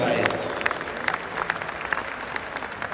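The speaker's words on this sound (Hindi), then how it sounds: "ये इतनी सारी क्वालिटियां हैं, तालियां तो बनती हैं जोरदार" Audience clapping at an awards event in a mall, a burst of applause with several sharper claps standing out, heard under a speaking voice.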